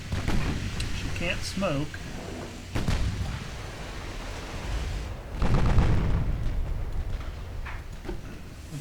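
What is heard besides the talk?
naval artillery fire, Ultimate Admiral Dreadnoughts video game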